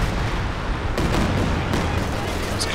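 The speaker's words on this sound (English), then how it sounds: "That's Katyusha barrage from the side." Katyusha rocket barrage in Company of Heroes 2, a dense, loud, unbroken roar of rapid blasts and rumble with no gaps, continuous for the whole few seconds.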